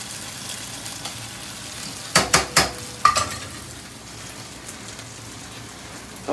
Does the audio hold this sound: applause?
no